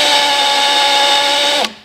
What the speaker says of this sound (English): Now we have to set the drill in reverse because this is a reverse thread drill bit.